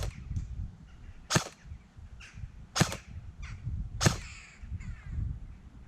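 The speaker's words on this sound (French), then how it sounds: "Test de tir de la S-Val LCT" Sharp shots from an LCT AS VAL airsoft rifle fired in a test series, three loud cracks spaced about 1.4 seconds apart with quieter clicks between, over low background rumble and no talk.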